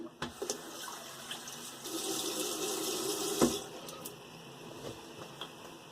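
Water runs steadily from a tap during a final rinse, a continuous broadband splashing close by with a few brief clunks and knocks, and no talking.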